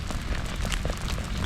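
Big raindrops smack steadily into the ground of a cornfield during a summer storm in central Portugal, a dense continuous patter close by with no voices.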